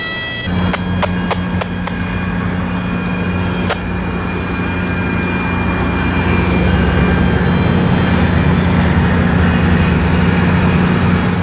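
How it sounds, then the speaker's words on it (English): A CSX train's stabilizers strain on tilted superelevated track at Point of Rocks, giving a constant droning hum and rumble, with a few sharp clanks early on and a high whine that slowly rises. "the stabilizers are trying to correct themselves, but it cannot, which is why the sound is constantly being heard"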